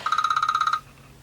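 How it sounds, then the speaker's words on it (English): Phone alarm ringing in a quiet room, a fast trilling electronic ring of rapid pulses lasting under a second before cutting off. "That's my alarm to get up."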